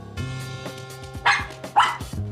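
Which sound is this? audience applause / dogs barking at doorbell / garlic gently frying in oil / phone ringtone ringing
dogs barking at doorbell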